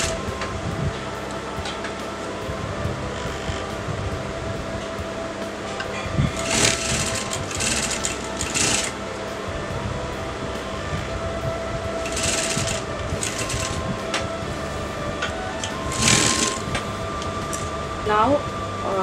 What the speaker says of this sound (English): So now I'm going to keep this open, so I'm going to put a top stitch.